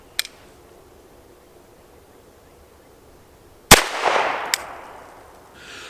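A single loud rifle shot fired at a target cracks sharply out of near silence and leaves a long, fading echo, with a brief click before it and a short sharp report in the decaying tail.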